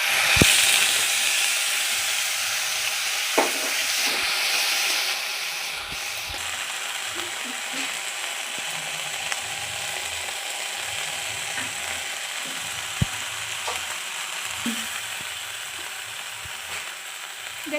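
Onion, ginger, garlic and tomato paste fry in hot mustard oil in a wok. A loud, close sizzle at first settles into a softer steady hiss, with occasional clicks and taps of a utensil.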